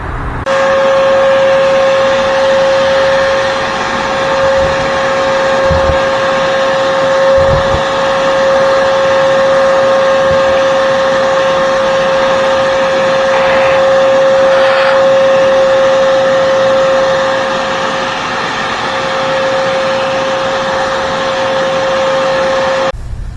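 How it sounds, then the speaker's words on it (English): A vacuum cleaner sucks sticky debris from a 1984 scooter that sat in a shed for 30 years, giving a loud, steady whining drone with a constant tone that runs unbroken for over twenty seconds, with occasional faint knocks. "Almost think I want to just vacuum that up."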